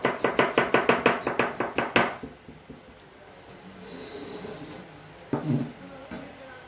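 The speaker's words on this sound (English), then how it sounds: "Today I'm going to cut some vegetables." Knife chopping onion on a board in a hotel kitchen, a quick run of about a dozen rhythmic close cuts, followed by quieter handling sounds and a couple of softer cuts.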